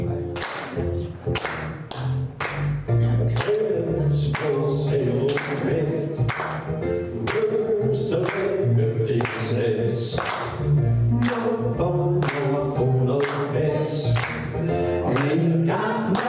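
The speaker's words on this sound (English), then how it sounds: "So we're going to keep them clapping." A group of people clap along in a steady rhythm, sharp repeated claps and thuds over music with a voice, fairly close and continuous.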